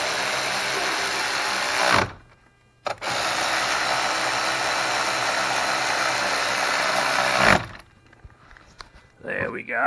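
A small electric ratchet drives bolts on a Volvo XC90, a steady close buzzing whir running in two long bursts with a brief pause between, then stopping.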